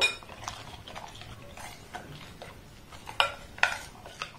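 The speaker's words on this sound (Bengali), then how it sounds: "এবার এটাকে আমি খুব সুন্দর করে মিক্সড করে নেব।" Semolina and water being mixed in a bowl, with a utensil scraping and clinking against the sides in irregular, fairly soft strokes and a few sharper clinks near the end. No talking.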